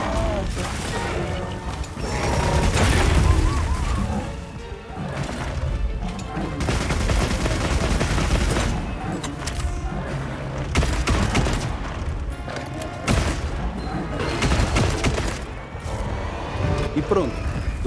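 Weapon fire and clanking mechanical impacts while hunting the Doshaguma monster in Monster Hunter, sounding as repeated heavy bursts and crashes amid busy game music and effects, with someone talking over much of it.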